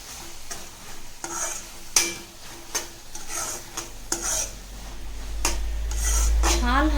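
A spoon scrapes and clinks in a pan of carrot halwa mixed with milk and ghee-fried dry fruits, giving repeated rhythmic stirring strokes close up, with a rising low rumble toward the end.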